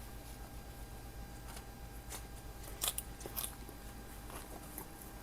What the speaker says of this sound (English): Let's go in for a bite.